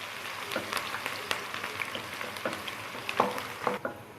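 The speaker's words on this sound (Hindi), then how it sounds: "प्याज को हम गोल्डन ब्राउन करेंगे" Onions sizzle and crackle steadily in a hot pan, with occasional soft stirring scrapes; no voices.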